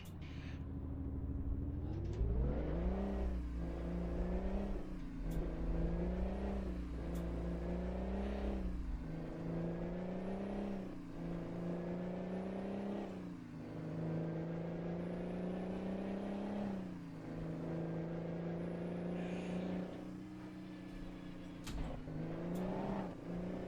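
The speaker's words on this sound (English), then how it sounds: "Jake brake on this truck is terrible." A Mack log truck in American Truck Simulator, its Jake brake engaged, makes a loud, steady diesel drone with repeated rising and falling pitch swells over about twenty seconds, with no talking.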